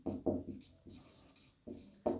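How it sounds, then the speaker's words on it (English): Pen or marker writing out a maths problem on a class-10 arithmetic progression exercise, heard as close, uneven bursts of scratchy stroking that start and stop in short groups, with no talk. "let's write down given AP."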